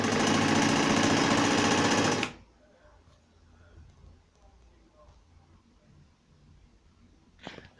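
A sewing machine stitching fabric whirs loudly and steadily for about two seconds, then stops abruptly, leaving a quiet room with faint scattered handling noises and a small knock near the end.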